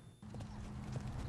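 Pony hooves clip-clopping in a steady, close rhythm at a trick-riding event, a continuous low patter of hoofbeats that starts abruptly after a brief quiet moment.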